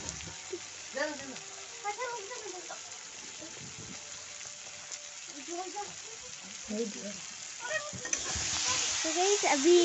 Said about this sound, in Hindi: अभी इसको फ्राई हो रहा है